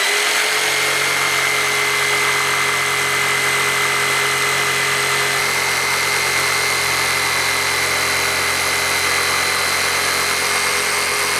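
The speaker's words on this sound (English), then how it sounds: "you wouldn't be able to make that cut if it wasn't elevated because the jigsaw blade would interfere with the top of the table" Jigsaw cutting an arch in wood while mounted on an elevated track table: a loud, continuous buzzing motor whine with a steady high tone, running evenly for about eleven seconds without speech.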